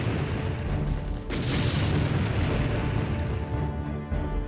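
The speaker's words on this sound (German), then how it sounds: "Artillerie, bitte einmal richtig reinballern hier jetzt." Heavy artillery booms in the video game Empire Earth roll in continuously, a dense rumbling barrage of blasts with a sharp new burst partway through, loud and close.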